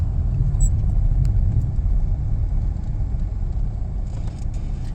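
A car pulling away from the kerb on a driving test route, a steady low engine rumble and road noise throughout, fairly loud and without speech.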